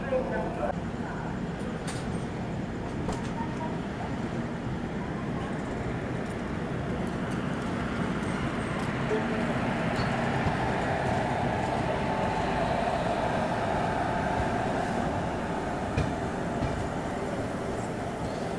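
A Humsafar Express hauled by a WAG-7 locomotive pulls out of platform 5 at Tundla Junction, a faint, continuous rumble of rolling wagons heard from on board with a voice speaking over it.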